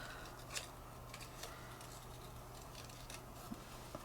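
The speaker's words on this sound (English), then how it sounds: "we're going to cut the Smile out like this." Scissors snipping through paper to cut out hand-made letters for a journal page, a few soft crisp snips spread over a few seconds against a low steady hum, fairly quiet and close.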